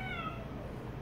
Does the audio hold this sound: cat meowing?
yes